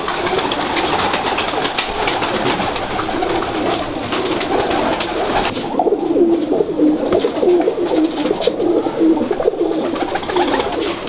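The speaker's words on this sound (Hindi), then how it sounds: "मियाँ साहब वाले छटों वाले कबूतर का आपको शौक़ करवाते हैं" Miyan Sahab chhaton wale pigeons coo in soft repeated low calls close by, over a constant background hum and rustle, with no talk.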